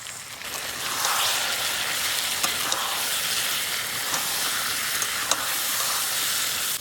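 Potatoes sautéed with spice masala in a pan for a bhola fish curry with eggplant, giving a continuous hissing sizzle, close and fairly loud, with a few faint taps of a utensil. No speech.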